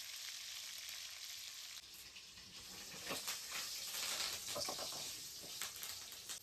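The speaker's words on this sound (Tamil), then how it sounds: "கடுகு நல்லா பொரிஞ்சிடுச்சு." Mustard seeds spluttering in hot oil for a crab masala, a faint continuous sizzle broken by scattered sharp pops and crackles that grow busier toward the middle, with no voices.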